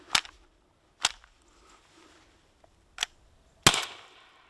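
Four sharp, close cracks ring out, each fired at irregular intervals from a 16 joule HDR .68 caliber launcher loaded with aluminium balls; the last shot is loudest with a short lingering echo.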